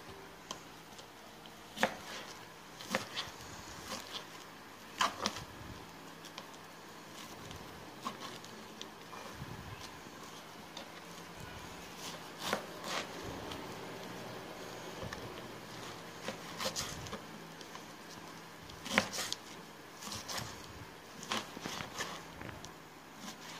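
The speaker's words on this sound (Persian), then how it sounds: "ابتدا نون باگت هامون رو ریز خرد میکنیم." Baguette bread is chopped into small pieces with a knife on a board, giving quiet, uneven taps and crunchy cuts spread through a hushed kitchen with no talking.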